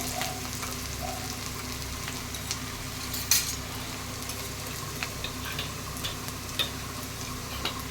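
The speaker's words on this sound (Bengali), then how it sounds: "পেঁয়াজটা দেখুন আমার লাল লাল করে ভাজা হয়ে গেছে" Onions frying in oil in a pan for a kachki fish chorchori, a soft steady sizzle with a few light clicks from stirring, close but quiet, no speech.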